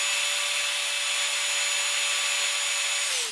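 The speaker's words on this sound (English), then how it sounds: "I'll just use an angle grinder for that." An angle grinder cutting a sheet metal battery cover, a loud, continuous high-pitched whine with abrasive hiss held steady for several seconds before winding down at the end.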